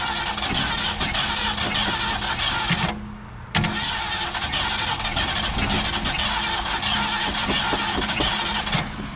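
A 1967 Ford Galaxie 500, abandoned for years and out of gas, cranks on a start attempt, a steady, loud, churning starter whir that stops briefly midway and then resumes without catching.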